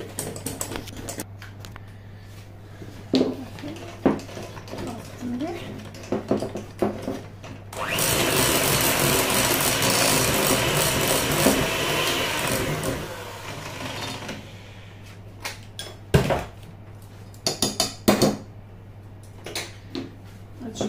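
Chocolate coconut cake batter being beaten in a bowl with an electric mixer, a steady loud whirring burst of several seconds between quieter clatter, with a constant low hum underneath.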